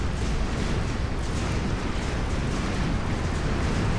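Battleship bombardment in Supreme Commander Forged Alliance, a constant thick roar of overlapping explosions that hold an even, heavy rumble throughout with no distinct pauses or talk.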